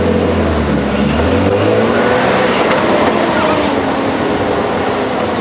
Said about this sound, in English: If we can start the car.